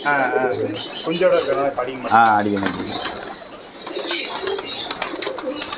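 Pigeons coo at a large bird farm in Madurai, their low throaty calls repeating close by amid chirps, while someone talks over them.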